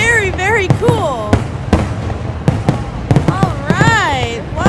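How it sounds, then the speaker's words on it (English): Fourth of July fireworks going off in a rapid run of sharp bangs and pops, with excited voices and whistling calls over and between the bursts. "Look at all those fireworks!"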